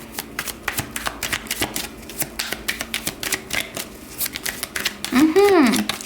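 Tarot cards being shuffled by hand give a run of quick papery riffles and flicks in bursts, close and moderately loud, with a short tonal swoop near the end.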